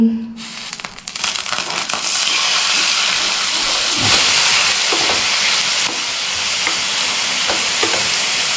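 Snails fry in a pan for a pitha dish, with a continuous loud, close sizzle and hiss and occasional stirring clatter and crackles across the whole stretch.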